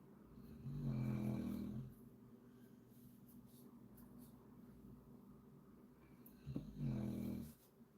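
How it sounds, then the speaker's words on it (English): A sleeping dog snores nearby in two long, loud rasping breaths a few seconds apart, with quiet room tone between them. "The dog is deep in snore land."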